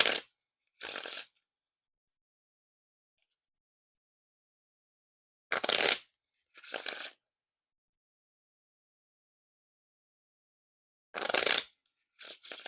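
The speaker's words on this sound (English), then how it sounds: "Now time for the Riffle Shuffle or Bridge Shuffle." Three bursts of a Theory11 Red Star Wars dark side deck being riffle shuffled and bridged, each a short crisp ripple of cards, spaced several seconds apart in quiet.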